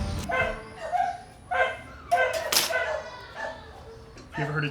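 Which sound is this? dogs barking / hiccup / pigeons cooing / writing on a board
dogs barking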